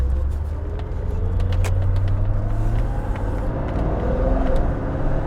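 1986 Porsche 928S engine while driving, a steady loud low rumble from the car with road and wind noise, continuous and smooth throughout.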